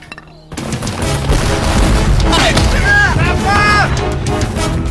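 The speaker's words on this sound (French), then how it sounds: "80 canons envoient des obus de 12 livres sur les lignes" French 12-pounder cannons fire in a reenacted Waterloo battle scene, a sudden heavy barrage of booms and crashes that starts abruptly and rolls on continuously and loud, with shouting voices and whistling tones over it.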